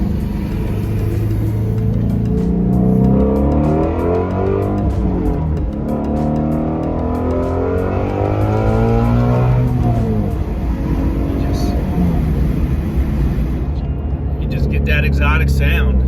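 A 2018 Shelby GT350 with a resonator-delete exhaust revving hard, its loud, raspy engine note rising and falling through wide-open throttle for the whole stretch, close and continuous.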